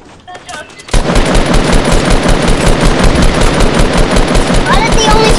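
Rapid automatic gunfire erupts in the video game Fortnite after a brief quiet moment, then continues as a loud, dense, unbroken burst of shots.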